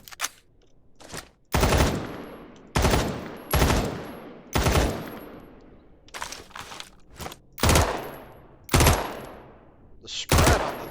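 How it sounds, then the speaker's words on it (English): Three-round bursts from an M16A1 rifle in the Badlanders video game, fired repeatedly: about nine sharp, loud cracks spaced roughly a second apart, each with a short decaying tail and no talking. "The spread on the 3 burst is about the same as the M4's full auto"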